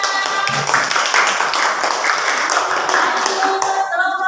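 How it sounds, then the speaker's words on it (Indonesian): Classroom applause after a group presentation of a light experiment: a steady, dense patter of many hands clapping fills the room throughout, fading slightly at the end. "tepuk tangan."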